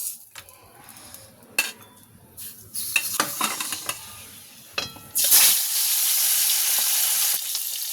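Fish pieces dropped one by one into hot oil, with scattered clinks and stirring before a loud hissing sizzle bursts out and holds steady, close and fairly loud.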